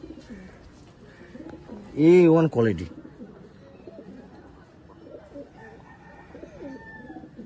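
Pigeons coo softly and steadily in the background while someone talks throughout, with a brief louder burst of sound partway through.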